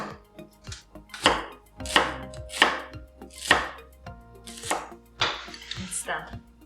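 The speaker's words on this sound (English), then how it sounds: "So I'm going to cut the onion, which I'm going to use in the sauce." A knife chops an onion on a cutting board with about seven sharp, distinct strokes at a steady, unhurried pace, close and clear with no talking.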